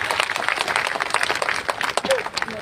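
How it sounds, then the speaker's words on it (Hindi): A crowd at an outdoor Nishad Party political rally in a village claps in a busy, uneven burst, with loud talk running over the clapping throughout. "जोरदार तालियों से स्वागत करता हूं।"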